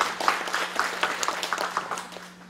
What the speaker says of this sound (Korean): 토론을 도와주실 우리 퍼슬리데이터 선생님들께 박수 한번 보내주시고요.